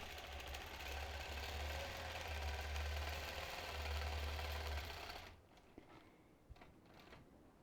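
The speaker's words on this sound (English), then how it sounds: "So once again, we're just basting down the sides." A quilting machine runs steadily while basting down the sides of a quilt, a loud, even mechanical whir with rapid stitching that stops abruptly after about five seconds, leaving only faint clicks and handling noises.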